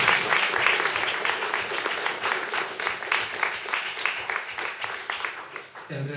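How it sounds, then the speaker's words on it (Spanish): Audience applause at a literary talk in Pinamar, a dense, steady wash of many hands clapping that fills the room for several seconds at a fairly loud level. "Un aplauso."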